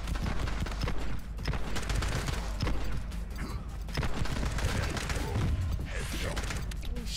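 Dense gunfire from the shooter video game The Club in a prison cells level, a steady run of muffled shots and mechanical clatter at moderate loudness with no pauses.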